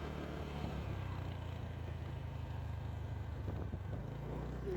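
A scooter heading off-road on a mountain trail near Golma Dada, Nepal, its engine a steady, fairly quiet low hum running throughout with slight rises in pitch, no voices.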